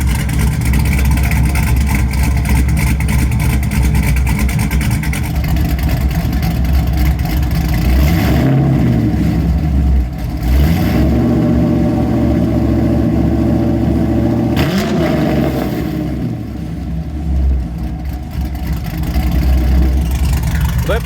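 A Chevrolet Camaro with an LS V8, Truck Norris cam swap and loud mufflers idles with a lumpy, choppy rhythm, then blips and revs hard several times in separate sharp bursts before settling back, heard loud and close.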